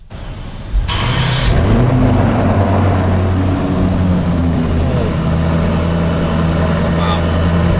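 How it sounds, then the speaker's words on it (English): A Lamborghini Urus SUV engine cranks and fires after a moment of quiet, the exhaust flaring loudly before settling into a deep, steady rumbling idle close by. "let's flick this start-stop button. Let's see what this engine and exhaust sound like."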